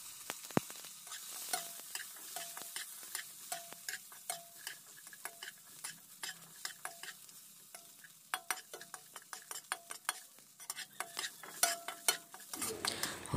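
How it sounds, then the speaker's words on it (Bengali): Cashews and raisins frying in ghee in a kadai for chirer payesh, a steady close sizzle with frequent scraping stirs and light clinks of the spoon throughout. "ঘি দিয়ে কিছুটা কাজু আর কিছুটা কিশমিশ একটু ভেজে নেব।"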